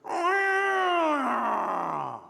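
A voice mimics a passing car with a sustained hum whose pitch slides steadily downward, as if the vehicle drives by and away.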